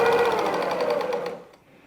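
A sewing machine rapidly stitches patchwork pieces together in one close, fast rattling burst that stops abruptly after about a second and a half.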